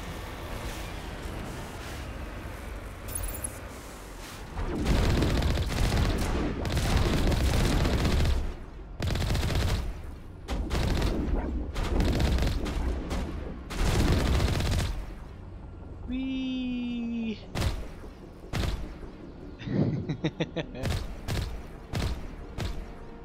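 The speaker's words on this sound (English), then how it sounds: "What are these guys doing shooting at us?" Gunfire in Mass Effect: loud sustained bursts of automatic weapon fire, then sharp separate shots toward the end, with a brief voice in between.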